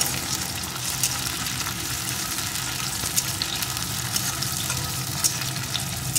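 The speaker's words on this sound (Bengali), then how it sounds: "টমেটো কুচিটাও সব কিছুর সাথে একটু ভেজে নেব।" Chopped tomato frying in a pan with other ingredients for a pointed gourd mash, giving a steady, close, even sizzle with faint stirring and no talk.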